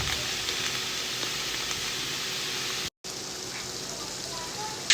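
Chicken gizzards stirred into vegetables in a pan for a green gizzard sauce, a steady soft sizzle with faint stirring scrapes throughout, quiet and continuous with one brief dropout.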